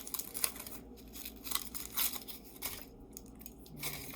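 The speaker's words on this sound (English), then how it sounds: "the easier the foil will peel off." Foil is peeled off a piece of craft chocolate, making a continuous close, faint crinkling and tearing rustle with small crackly spikes throughout.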